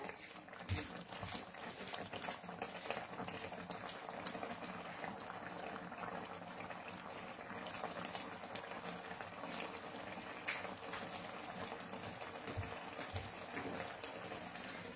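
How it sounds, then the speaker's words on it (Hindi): Liquid with dry fruits boils steadily in a pot on a home stove, a dense, continuous bubbling and hissing that stays even and fairly close throughout, with a few brief clinks. "थोड़ा सा और इसको बॉईल करना है"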